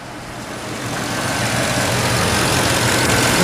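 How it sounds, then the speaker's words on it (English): A car engine idles steadily at about 700 rpm while being checked for stalling at idle, a constant mid-low hum that slowly grows a little louder, close and alone. "you can see the idle right now is about 700"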